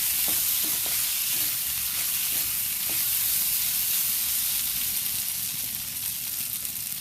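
Potato pieces fried in coconut oil for mezhukkupuratti, a loud continuous sizzle close up, with occasional soft stirring knocks from a spatula and no voices.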